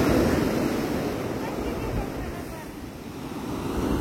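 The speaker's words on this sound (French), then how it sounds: "Oh, Dolly, il y a une grosse vague." Big ocean waves roll and break continuously on a beach in Malaga, a loud, broad surf roar with wind rumbling against the microphone.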